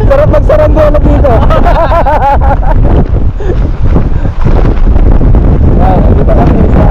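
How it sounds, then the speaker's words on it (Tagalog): Strong typhoon wind buffets the microphone on the coast at Pagudpud, a loud continuous roar with gusty rumble, while voices can be heard talking through it. "Napakalakas ang hangin."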